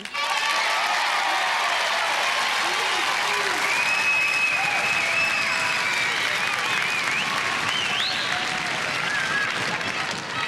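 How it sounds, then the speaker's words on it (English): A studio audience at a 1992 Gladiators UK taping applauds and cheers, a dense, loud, sustained wash of clapping that holds steady throughout with whistles and shouts mixed in. "I think a round of applause for Dean"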